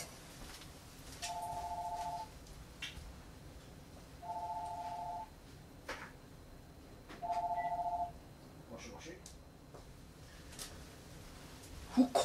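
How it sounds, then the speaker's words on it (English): A landline telephone rings in repeated steady electronic bursts, three evenly spaced rings, fairly faint over a hissy room background. "Who calls on the land phone nowadays?"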